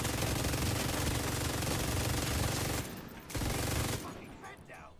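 Light machine gun fire in a video game, a dense, sustained roar of rapid shots at close range that briefly drops out, resumes, then fades into scattered echoing pops toward the end.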